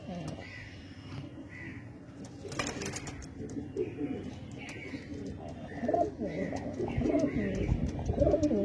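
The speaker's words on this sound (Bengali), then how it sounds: "এটা হচ্ছে মাদা পায়রা" Kalsera old-line pigeons with red-streaked markings coo softly in a loft. Other bird calls and background voices mix in, and the sound grows louder toward the end.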